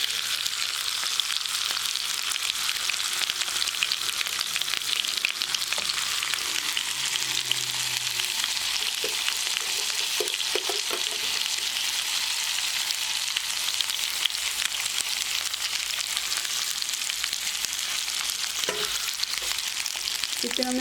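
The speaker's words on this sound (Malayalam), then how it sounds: "ചിക്കൻ ഒന്ന് 2 വശം ഒന്ന് മൊരിച്ചെടുക്കാം." Chicken pieces fry in a tablespoon of oil in a pan, crisping on both sides, producing a steady, close, bright sizzle with scattered pops throughout and no voices.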